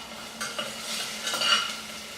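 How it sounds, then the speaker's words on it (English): Ginger sizzles steadily in a hot pan, a soft continuous crackle with a few louder bursts of spatter, and no talking. "the ginger here, it's starting to sizzle and cook quite nicely"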